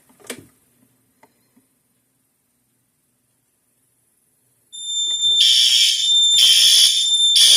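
A Notifier NFS2-640 fire alarm system sounds after a heat detector test, starting with a few faint clicks and then a loud, piercing, pulsing electronic alarm tone that kicks in abruptly and continues nearby.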